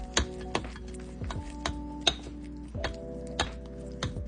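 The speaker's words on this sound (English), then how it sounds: "I'm gonna mix this all up and see what it looks like" A utensil clinks and taps repeatedly against a container while sourdough starter is mixed with flour and water, sharp ringing knocks at an irregular rhythm, close and alone.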